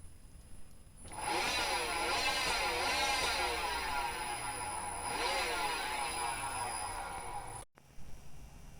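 An electric motor in a BMW E91 EV conversion runs on 40 volts. It starts with a whine, then holds a loud, steady electric drone with wavering tones that rise and fall, and cuts off abruptly near the end.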